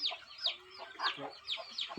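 Large-breed hens on a Telangana farm cluck in quick, repeated bursts, several close calls overlapping across a couple of seconds with no talking.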